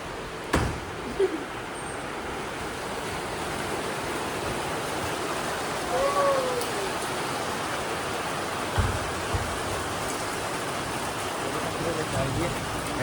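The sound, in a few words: rain falling outside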